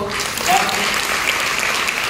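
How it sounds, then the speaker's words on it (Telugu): A crowd applauding at the closing ceremony of a women's yoga programme, a dense steady clatter of many hands clapping close by throughout. "తోట సంధ్య అశోక్ దంపతులను మనందరం మన చప్పట్లతో"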